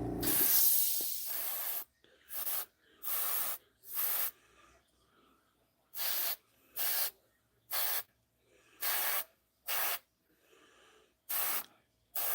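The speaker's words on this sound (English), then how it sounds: "The only problem with airbrush is it takes a weirdly large amount of paint" An airbrush sprays paint in short hissing bursts. A long opening spray is followed by about ten regular pulses, each separated by brief quiet.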